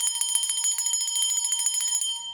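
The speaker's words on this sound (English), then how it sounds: "ring the bell" Small bell rung in rapid repeated strikes for about two seconds, bright and close, shimmering with metallic overtones before fading out.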